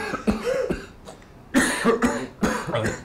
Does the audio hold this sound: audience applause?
no